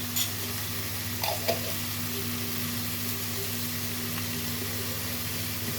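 Tomato paste sizzles in a pan with a steady frying hiss over a low hum, while a spoon gives a few brief scraping stirs near the start and middle.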